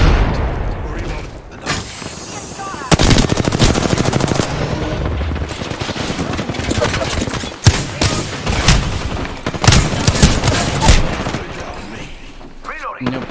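Dense automatic gunfire from a video game battle, loud and continuous with bursts and booms, overlaid by a player calling out over it.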